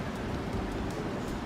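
Steady rain falls outdoors on a changeable, windy day, a dense continuous hiss at moderate level with no voices.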